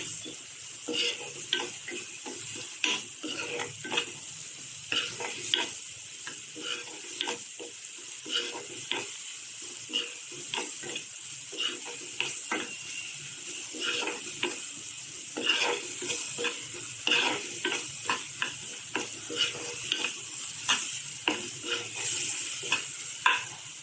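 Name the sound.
tomato sautéing in oil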